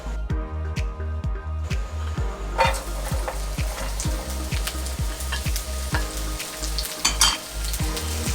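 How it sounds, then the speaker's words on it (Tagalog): Chopped onions hit a hot wok for Filipino pork steak and start sizzling loudly, with rhythmic stirring and scraping pulses repeating throughout, close and without any talk. "Ayan, mainit na yung ating wali. Lalagyan na natin sibuyas."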